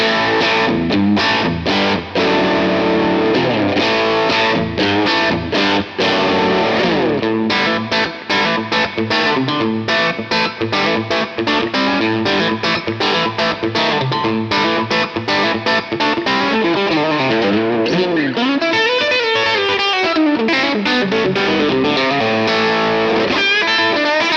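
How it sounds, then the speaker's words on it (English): Overdriven electric guitar played continuously and loud, with crunchy distorted chords and ringing notes, some strummed rhythmically, no talking. A Fender Telecaster on the bridge pickup through a Tube Screamer overdrive pedal. "I've just engaged the tube screamer now, and this is the bridge pickup."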